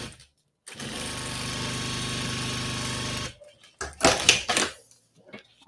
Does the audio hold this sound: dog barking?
no